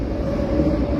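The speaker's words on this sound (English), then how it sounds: "And you see the train is also going on" A train rumbling along an elevated loop line above Franklin Street, a steady low-pitched roar heard at a moderate distance with no break through the whole stretch.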